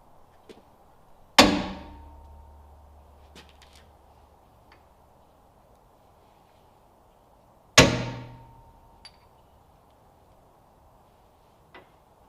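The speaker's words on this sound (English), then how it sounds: "I got all my holes marked and punched" A hammer strikes a center punch twice, marking screw holes for a barn door window frame; two sharp, ringing metallic hits about six seconds apart, each decaying slowly, with faint taps between.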